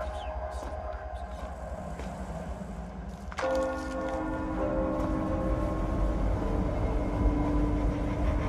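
Bells chime in the Penumbra: Black Plague horror game, a ringing metallic strike entering midway over a steady low rumbling ambience and then sustaining, with no talking.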